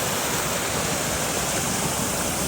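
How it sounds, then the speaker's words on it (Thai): Water pours steadily over a natural overflow weir on a stream, a dense, continuous rushing roar close by with no pauses or voices. "ตรงนี้เป็นใต้ฝายนะครับผม ก็จะทำแบบฝายธรรมชาตินะครับผม ฝายน้ำล้นนะ"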